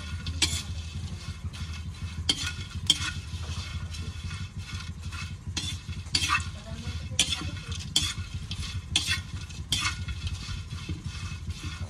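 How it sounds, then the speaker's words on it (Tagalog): Garlic fried rice with dried anchovies being stir-fried in a pan: steady sizzling frying under repeated sharp scrapes and clinks of a utensil against the metal, close and continuous. "Sangag-sangagin lang natin."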